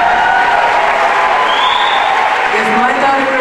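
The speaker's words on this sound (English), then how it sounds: "Mom and dad, you deserve a round of applause." A concert audience at a live show in Thousand Oaks gives steady, sustained applause with some cheering, heard as a dense wash of clapping with voices mixed in throughout.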